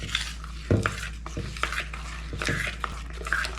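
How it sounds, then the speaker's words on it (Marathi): Ground dosa batter for Davangere butter dosa is stirred in one direction in a metal vessel, giving irregular clinks, scrapes and wet sloshing up close. "आता ते एका डायरेक्शनला फिरवायचं फक्त ढवळताना."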